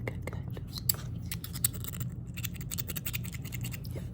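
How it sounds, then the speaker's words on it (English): Scissors make close, crisp snips through frayed thread ends in a quiet ASMR sewing setting, with a run of quick little cuts and soft handling noises at low volume. "So I'm just gonna cut those little frays."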